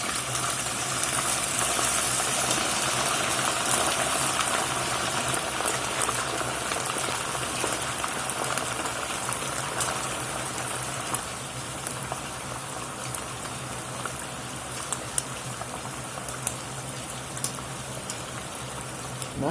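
Pork pieces frying in hot lard over a medium fire for carnitas, a loud continuous crackling sizzle with scattered pops, close and steady throughout, softening slightly toward the end.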